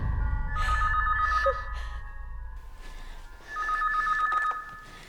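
A telephone rings in two bursts of trilling electronic bells separated by a short pause, loud and close, with faint breathing between the rings.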